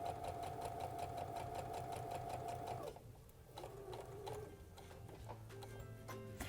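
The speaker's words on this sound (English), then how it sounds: "So I'm stitching until that mark comes in line with my fabric" Baby Lock sewing machine running steadily with a clear quarter-inch quilting foot, a rapid even mechanical whir for about three seconds, then slowing and continuing more softly as fabric is pivoted, close and alone.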